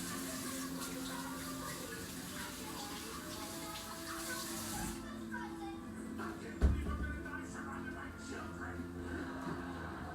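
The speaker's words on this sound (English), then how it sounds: "Wash our hands again." Hands being rinsed under a running tap while baking a pineapple pound cake, a steady faint trickle of water running throughout with a brief clunk partway through, quiet voices in the background.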